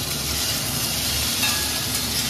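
Fish frying in a pan in a home kitchen, a steady broadband sizzle running unbroken at moderate level throughout, with a low rumble underneath.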